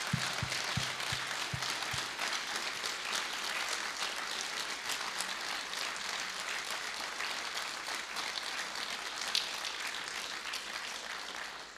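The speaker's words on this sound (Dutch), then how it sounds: "zou ik zeggen even goed klappen" Church congregation applauding during a service in Rinsumageast, a steady dense clapping that carries on evenly for the whole stretch, with a few low thumps near the start.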